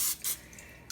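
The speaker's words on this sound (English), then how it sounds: "I'm going to spray it with non-stick spray" Non-stick cooking spray hisses onto a measuring cup in a home kitchen during biscuit making, in two quick, soft bursts, with a third starting just as it ends.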